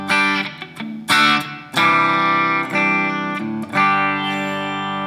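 Electric guitar played through an Enya Inspire guitar's onboard speaker on a deluxe clean amp setting: bright, ringing strummed chords with sustained harmonics, struck in several bursts that ring out between strokes, loud and close with no talking.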